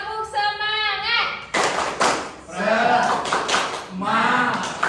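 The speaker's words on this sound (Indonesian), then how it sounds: "Maka kita buka dengan tepuk semangat." A group performs the rhythmic 'tepuk semangat' clapping chant to open an early childhood Islamic education class: sharp claps in bursts, mixed with chanting voices.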